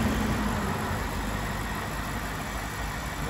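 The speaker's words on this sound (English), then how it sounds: "There we go, the engine's running at the moment." A BMW 645Ci convertible engine idles with a steady, even rumble heard close up, unchanging throughout with no talk over it.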